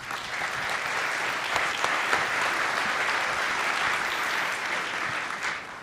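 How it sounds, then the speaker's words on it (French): Steady applause from an audience at a French-language manufacturing strategy forum, even and continuous clapping lasting about six seconds at moderate volume. "je pense qu'on devrait l'applaudir."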